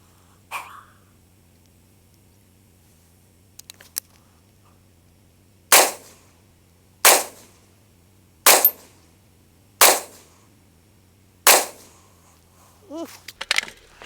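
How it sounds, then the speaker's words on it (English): Five loud rifle shots ring out one at a time at an unhurried, even pace while a group is fired through a Texas Weapon Systems Gen3 dog leg dust cover, with quiet handling clicks around them over a low steady hum. "Let's get this thing loaded up, shoot another group real quick."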